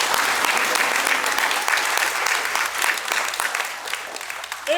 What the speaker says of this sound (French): Un grand tonnerre d'applaudissements s'il vous plaît pour eux.